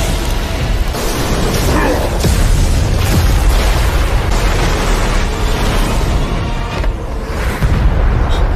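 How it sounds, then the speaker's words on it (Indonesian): A big explosion in the Battle Through the Heavens anime: a loud, sustained rumbling blast with repeated booming surges and crackling bursts that continue throughout at steady intensity. "Dan akhirnya, ledakan besar pun terjadi."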